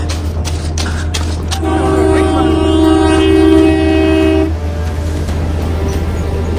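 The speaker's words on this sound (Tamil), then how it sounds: "ஏய் ட்ரெயின் வருதுடா" A train rumbles past close by, with a long steady horn blast sounding for a few seconds over the loud, continuous roar of the wagons.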